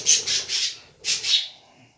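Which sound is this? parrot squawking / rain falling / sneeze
parrot squawking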